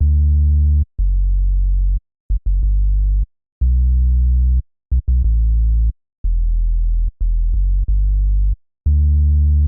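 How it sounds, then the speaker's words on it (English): Pure, deep synthesizer sine-wave tones at a 16-foot octave play as a series of separate notes, a smooth low hum starting and stopping in a halting rhythm. "In the oscillator 1, I selected a simple sine wave and I put the octave at 16"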